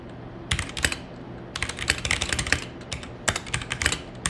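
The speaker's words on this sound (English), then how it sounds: "Go ahead, type out your brain dump." Rapid, uneven keystrokes on a computer keyboard come in several close bursts separated by short pauses, crisp and fairly near, with no talking.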